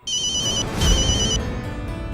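A mobile phone rings loudly and close by with a bright electronic trill, broken by a short gap before sounding again.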